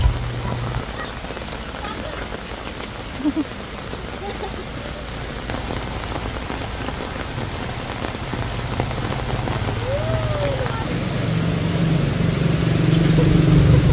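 Steady rain patters and hisses on surfaces throughout, with a low engine hum underneath that swells toward the end.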